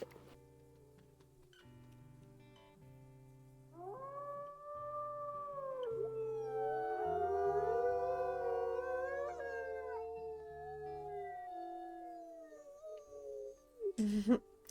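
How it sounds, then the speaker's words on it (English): A chorus of wolves in the video game WolfQuest rises in long, gliding howls that overlap and fade, starting after a quiet stretch, with a sharp short noise at the end and no talk. "I always know it's Brangwyn doing that howl"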